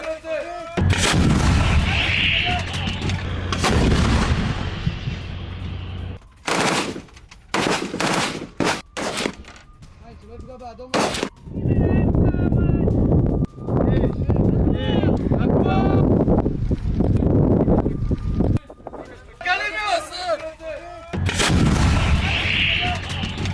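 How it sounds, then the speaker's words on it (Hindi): Israeli self-propelled guns fire artillery shells in a string of heavy, booming blasts with rolling echoes, interleaved with sharper reports, while a voice talks over parts of the sequence. "इजरायली सेना ने सेल्फ प्रोपेल्ड गन से गोले दागे।"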